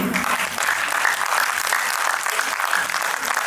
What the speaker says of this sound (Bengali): আপনাদের কাছ থেকে একটা জোরে হাততালি।